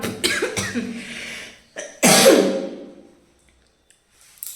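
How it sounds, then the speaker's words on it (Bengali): A few sharp coughing bursts at close range, a loud throat-clearing cough in the middle, then quiet. "কাশিটা আবার চাগর দিল নাকি"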